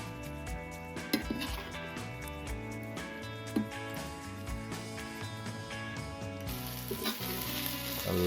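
Curry leaves fry with beef roast in a pan, a loud, steady sizzle broken by stirring and the clink of a utensil against the pan, with background music throughout.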